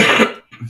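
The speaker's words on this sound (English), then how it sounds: "It's a morning cough there." A single harsh morning cough from a man with a cold, close and loud, followed by a short throaty rasp.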